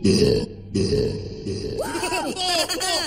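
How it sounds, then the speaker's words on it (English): A cartoon character lets out a long, deep burp in huge snowy catacombs, followed by a ringing echo that bounces back in several fading repeats. "Best burp echo ever."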